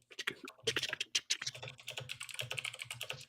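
Rapid, uneven clacking of fingers typing on a computer keyboard, continuous busy keystrokes close up, with a voice murmuring faintly underneath.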